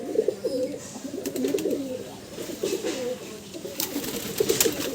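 Madrasi pigeons coo in a loft of birds from Andhra Pradesh, with repeated rolling throaty calls close by, joined by a few faint high chirps and light clicks in the background.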